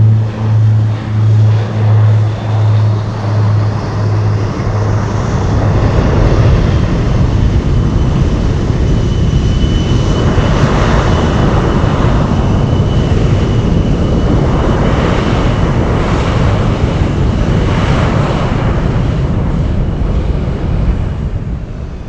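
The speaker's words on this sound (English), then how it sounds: "Gotta love those MD-80s." A McDonnell Douglas MD-80 jet airliner at Anchorage gives a loud, sustained engine roar close by. Early on it pulses with a rhythmic low throb, then swells into a broad steady rush, with some wind buffeting.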